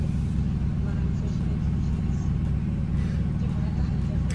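A steady low engine and road hum comes from inside a moving car, constant and unbroken throughout, with a person talking over it.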